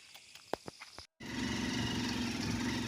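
A motorbike engine starts up after a few knocks and clicks and a brief silence, then runs with a steady, close, rumbling drone through the rest of the clip.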